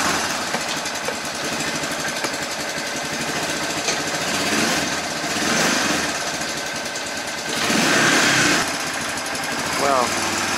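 An old car engine runs rough on choke in the snow, a loud uneven chugging idle that surges and dips several times, with a person talking over it.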